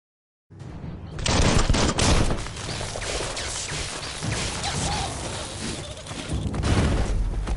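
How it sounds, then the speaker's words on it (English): Dense video game gunfire from a PS4 session: rapid overlapping shots and bursts that blur into a loud, continuous barrage starting abruptly and sustained throughout. "Bullets everywhere."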